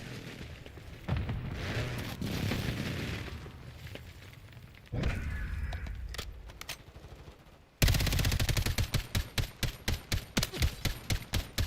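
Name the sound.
enemy precision airstrike in video game Call of Duty Modern Warfare II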